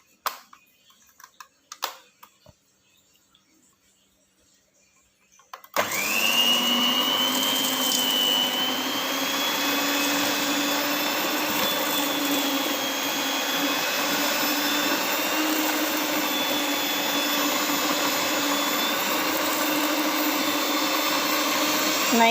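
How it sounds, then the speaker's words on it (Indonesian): Electric hand mixer beating butter and sugar for an economical lapis legit layer cake, switching on after quiet handling noises and then whirring loud and steady with a sustained motor whine close by. "Mixer saja sehingga mentega dan gula itu bercampur sampai benar-benar halus seperti itu ya"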